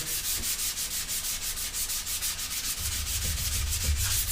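Sandpaper is rubbed by hand across a wooden skateboard deck to strip off the black finish, in quick regular back-and-forth strokes close up, with a slightly heavier scrubbing tone near the end.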